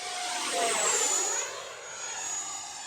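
An XFly Sirius 80mm EDF RC jet flying a full-throttle pass, its high-pitched ducted-fan whine rising and sweeping in pitch as it passes overhead outdoors, steady and fairly loud, with no talking.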